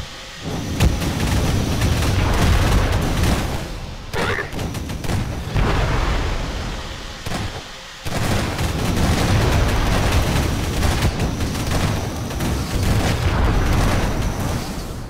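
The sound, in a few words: grenade explosion in a video game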